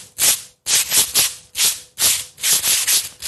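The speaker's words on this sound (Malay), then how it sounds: "Murid-murid di tangan Cikgu sekarang ada 2 helai kertas pasir." Two sheets of sandpaper rubbed against each other in a classroom sound demonstration, giving a series of loud, close, rasping strokes in an uneven back-and-forth rhythm with short pauses between.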